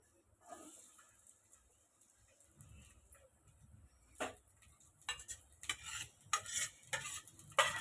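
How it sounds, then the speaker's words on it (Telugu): Onions dropped into plenty of very hot oil for a tomato fish curry, quiet at first, then breaking into a growing sizzle with bursts of hissing and spitting near the pan. "ఇప్పుడు ఉల్లిపాయలు వేసేస్తున్నా."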